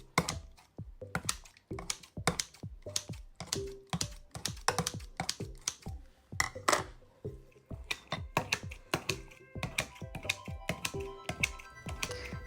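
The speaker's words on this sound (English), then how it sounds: "I continued cutting little slits into the dough" Kitchen shears snip repeatedly into seitan dough, making quick, crisp clicking cuts in an irregular rapid rhythm, close and clear with no talk.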